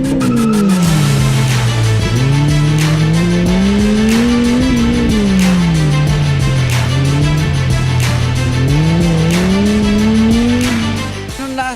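Race car at a slalom competition at Robinson Star Mills in Pampanga, its engine loud and close as it revs up and down in repeated sweeping waves, with tire squeal and skidding through the turns.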